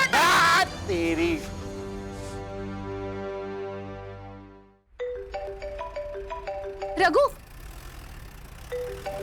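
A melodic electronic phone ringtone plays close by, a short tune repeating, with a voice speaking briefly near the start and again later.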